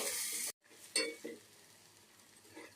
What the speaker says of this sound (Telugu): దీనిలోనికి మనము ముందుగా పొడి చేసి పెట్టుకున్న ధనియాలు, జీలకర్ర, మిరియాలు, వెల్లుల్లిపాయలు వేసిన పొడిని వేసి ఒక 2 నిమిషాలు వేయిద్దామండి